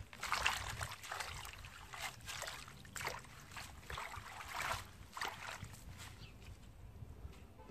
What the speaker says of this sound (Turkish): Şimdi şöyle güzel yıkayım.